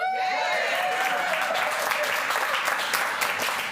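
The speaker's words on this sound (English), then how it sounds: "Now you can clap." A studio audience at a live creative-arts broadcast in Chilliwack breaks into applause, a thick, continuous roar of clapping hands after a brief tonal sting at the start.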